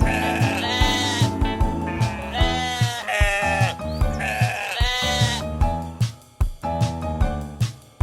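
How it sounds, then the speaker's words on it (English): A lamb bleats several times in wavering, drawn-out cries, loud and close over a steady rhythmic music track. "lamb,"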